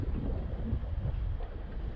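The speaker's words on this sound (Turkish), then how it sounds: "Bir de rüzgar var." Steady outdoor wind buffeting the microphone, a low continuous rumble with gusty fluctuations and no voices.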